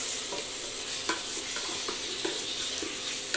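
Chicken being kosha-style stir-fried in a pan, a dense steady sizzle with repeated light scrapes of a spatula running throughout, close and loud, no speech.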